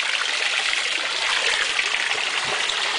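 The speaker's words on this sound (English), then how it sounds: "This siphon brings water in from deep in the tank." Water runs through a siphon into a settling tank of a home recirculating aquaculture system for prawns, a close, loud, steady trickling rush with no break.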